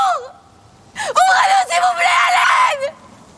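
A woman in a film screams for help. Her cries are loud, rising and wailing, and they run unbroken for about two seconds after a short gasp.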